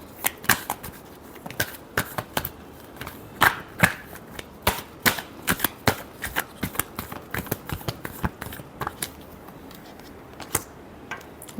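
Tarot cards are shuffled by hand in a quick, uneven run of crisp riffling snaps and flicks that continue for several seconds with no voices.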